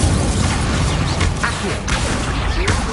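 Fire spell cast in a wizarding video game: dense, loud whooshing and crackling magical bursts across the whole stretch, with sharp impact hits layered over a busy game soundscape.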